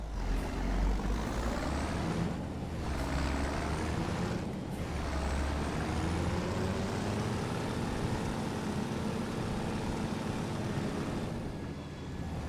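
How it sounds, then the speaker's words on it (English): A Mercedes tractor engine driving in Farming Simulator 25, a steady loud diesel drone with deep low rumble and broad mechanical noise that holds constant throughout, with a couple of brief dips in the mix. "So I am liking this Mercedes tractor."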